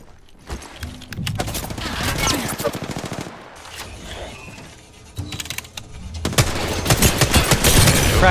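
Rapid bursts of gunfire from a shooter video game, loud and dense, with two heavy volleys separated by a quieter stretch, plus a brief voice in the mix.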